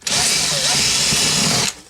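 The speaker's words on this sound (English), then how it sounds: "I'm going to drill through from the inside." A power drill bores through the wall of a dark homemade incubator box from the inside, one steady loud whining run of about a second and a half that stops abruptly.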